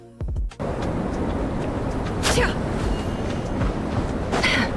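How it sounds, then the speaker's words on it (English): Howling snowstorm wind in Dragon's Spine in the video game Genshin Impact, a dense, continuous roaring rush with a couple of brief brighter gusts, loud and steady after a short low thump at the start. "that's the sound of a snowstorm in Dragon's Spine"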